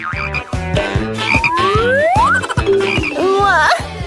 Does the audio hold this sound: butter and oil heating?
no